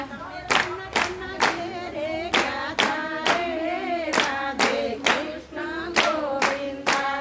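Devotees clapping in steady unison to a Radhe Krishna Govinda devotional song, sharp regular claps under a singing voice and melodic accompaniment, close and fairly loud.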